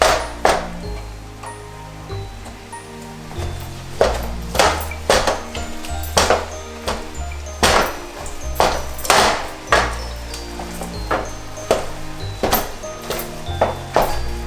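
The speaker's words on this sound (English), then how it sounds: "Start to chop up the meats." Cooked meats being chopped on a board for a French bulldog's meal prep, a series of sharp, close knife thunks at an uneven pace with brief scrapes between them, over a steady low background hum.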